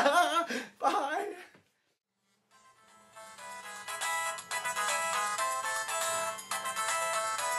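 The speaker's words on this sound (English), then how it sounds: "It's the phone, it's the phone." A telephone ringtone plays a steady, electronic melodic tone that starts after a brief silence and continues for several seconds; a voice speaks briefly just before it.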